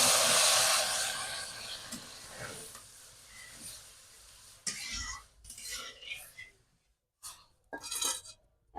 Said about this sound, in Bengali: এখন দিয়ে দেবো এর মধ্যে জল।